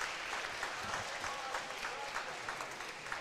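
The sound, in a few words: crowd applauding after badminton final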